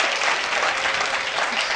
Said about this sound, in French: Applaudissez pour mon papa.